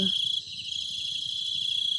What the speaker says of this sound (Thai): บรรยากาศยามค่ำคืนทุกคนมีแต่เสียงจิ้งหรีดเด้อ